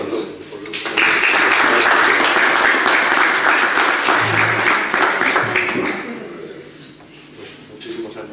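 An audience bursts into loud applause at a Spanish police conference honouring a commissioner, the dense clapping swelling quickly, holding for several seconds, then fading while voices carry on beneath it.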